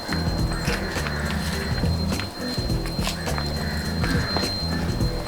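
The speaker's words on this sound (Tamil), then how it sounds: "நம்ம வீட்டுக்கு எப்பவுமே டெய்லி வந்து இந்த பசுமாடு வரும்" A cow walking close by on a hard surface, its hooves clopping in an uneven rhythm of many steps, with no voices.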